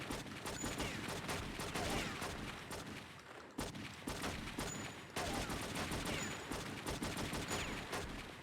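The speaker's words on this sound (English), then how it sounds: "excuse the very loud gunfire" Sustained video game gunfire in True Crime: New York City, loud rapid bursts of shots rattling almost continuously with a couple of brief breaks, no voices.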